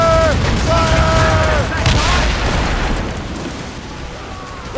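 Ship cannons firing in Assassin's Creed Rogue: a loud, dense rumble of broadside blasts with a rising mechanical whine, fading over a few seconds amid ocean battle ambience.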